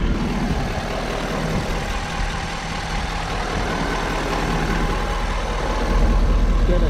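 A 2019 Ford F250's 6.7-liter Power Stroke turbo diesel idles with a steady, even rumble throughout, no voices, swelling slightly louder near the end.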